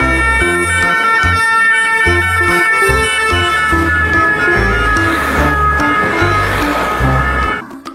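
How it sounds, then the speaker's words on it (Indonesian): A toy police car and ambulance play an electronic siren, a loud, steady looping wail with stepped tones that runs continuously and cuts off abruptly near the end. "Yang ini ada mobil polisi ambulans."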